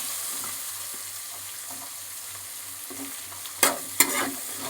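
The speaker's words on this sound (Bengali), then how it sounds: "পেঁয়াজ কুচিটাকে লাল লাল করে ভেজে নিতে হবে।" Chopped onions fry in a pan, browning toward red, with a soft continuous sizzle, a few faint stirring scrapes and two sharp utensil clacks near the end.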